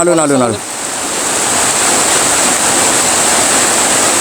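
Heavy rain pours down in a steady, dense roar, loud and close, after a brief spoken voice at the very start.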